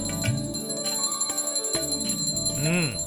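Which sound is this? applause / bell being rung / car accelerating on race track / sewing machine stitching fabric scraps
bell being rung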